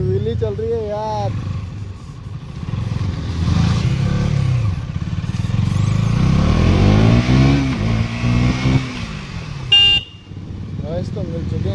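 A KTM Duke 200 motorcycle revs hard during a wheelie on a city street, engine roaring and swelling up and down close by, with a voice talking over it and a sharp click near the end.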